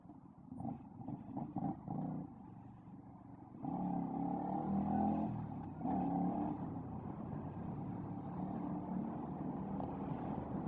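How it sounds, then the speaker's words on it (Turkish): Steady city traffic in Bursa: a continuous low engine drone of passing vehicles that swells louder partway through and stays dense, with no talking. "Ve Bursa trafiği."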